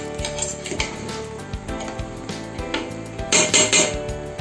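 A ladle scrapes and clinks around the sides of a pot of chicken dum biryani, a series of close, irregular metallic knocks and scrapes that grow louder toward the end.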